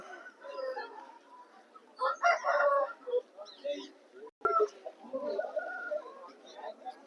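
A rooster at a Vijayawada rooster market crows amid the busy, murmuring yard, its calls rising loudest for a couple of seconds mid-clip over steady background chatter and other birds.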